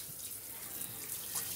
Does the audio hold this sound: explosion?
no